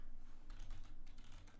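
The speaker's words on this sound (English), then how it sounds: "Typing sucks." Fast, light clatter of keys on a computer keyboard, a quick irregular run of close taps over a low steady hum, with no voice.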